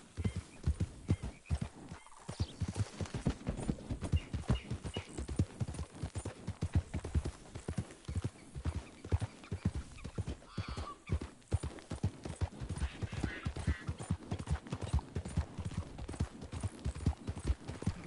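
Horse hooves gallop in a fast, steady clip-clop rhythm close by in Red Dead Redemption 2, with occasional whinnies breaking through the loud, continuous hoofbeats.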